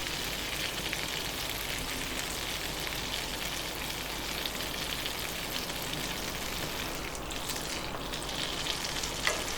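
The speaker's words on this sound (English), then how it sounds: "So there we have our roux. We're just going to work this around, keeping it moving, and just cut the rawness out of the flour" Roux of flour and butter cooking in a pan, a steady close sizzle with soft scraping as it is stirred continuously, no voices.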